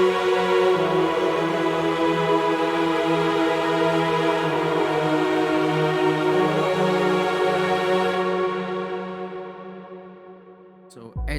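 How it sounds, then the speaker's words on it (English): A large choir-plus-strings synth preset from Nexus swells as a loud, sustained chord pad with echoing reverb, holding steady before fading out at the end. "for the second part of the climax, I used this bigger choir plus string preset from the Nexus. It sounds like this."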